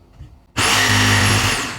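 An electric jigsaw (caladora) starts cutting along the sides of a marked rectangle. After a quiet moment it bursts on loudly into a steady, close, high motor whine with a buzzing reciprocating drone that holds to the end.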